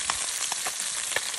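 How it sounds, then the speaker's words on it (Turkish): Close, steady sizzling and crackling of onions frying in a pan, with small pops scattered throughout. "Çıtır çıtır soğanlı kızartma oldu bu."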